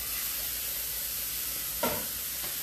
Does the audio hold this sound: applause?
no